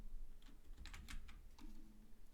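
Typing on a computer keyboard comes through as a quick cluster of light, close key clicks over a quiet room hum, with a short pause before a few more taps.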